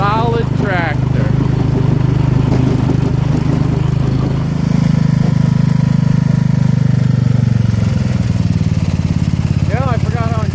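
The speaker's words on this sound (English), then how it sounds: "I forgot how enjoyable it was to drive one of these old Sears tractors" A 1970 Sears Suburban garden tractor runs steadily on a test drive, its small engine droning close and loud throughout, shifting pitch midway, while voices talk over it.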